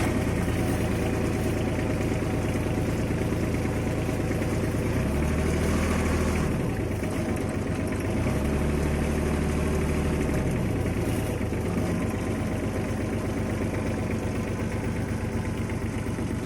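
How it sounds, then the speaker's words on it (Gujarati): A 2014 Sonalika mini tractor with a hydraulic gearbox idles steadily and loudly, a constant low engine drone with a slight change in tone partway through, and no voices. "Sonalika mini tractor 2014 model, hydraulic gearbox engine બધું પાવરફુલ"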